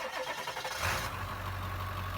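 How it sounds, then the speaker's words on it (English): A 2001 Ford F-250 Super Duty XLT with a 7.3L Powerstroke diesel cranks briefly, then catches and settles into a steady, rumbling idle, close and fairly quiet, with no talking. "Okay, now we're going to start the truck up."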